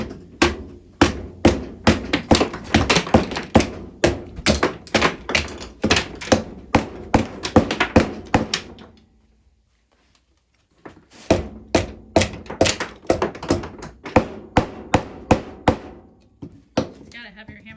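Heavy hammer striking wood while a workbench is built, in two bursts of rapid, loud, evenly spaced blows separated by a short pause, close and alone.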